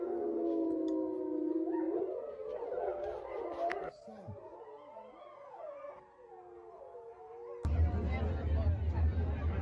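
A pack of wolves howling outside a house at night, several long overlapping wavering howls rising and falling close by, ending abruptly and giving way to a louder burst of other noise.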